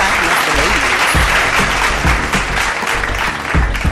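Steady, dense applause from a crowd, loud and continuous, with a voice speaking faintly underneath.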